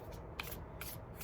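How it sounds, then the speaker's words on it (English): Oracle cards are shuffled by hand in a few quick, soft papery bursts, quiet and close, separated by brief pauses with no talking. "So now I'm going to be shuffling the cards"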